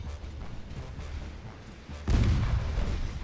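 Warship guns firing in the naval battle game Ultimate Admirals: Dreadnoughts, a deep booming salvo that swells abruptly and rumbles on over a continuous low background of game ambience.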